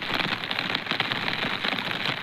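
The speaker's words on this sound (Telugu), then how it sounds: "చూడు మా వర్షం ఎలా పడుతుందో" Heavy rain pours steadily on an open rural path near a cattle shed, a dense, continuous hiss of drops hitting the surface up close, with no voices.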